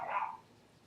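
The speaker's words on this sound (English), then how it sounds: "That's my dog barking, sorry." A single short dog bark is heard faintly indoors, off in the distance, and it fades quickly into quiet.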